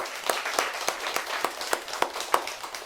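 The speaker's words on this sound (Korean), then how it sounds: "은혜로운 찬양에 감사 박수 보내드립니다." A church congregation applauds the choir after a hymn, the clapping fairly sparse with distinct individual claps standing out in an uneven rhythm, moderately loud and near, with no voices over it.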